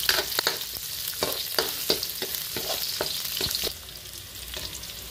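Onions frying in a pan, a steady loud sizzle broken by repeated sharp scraping and stirring strokes, then a softer sizzle toward the end; no voices.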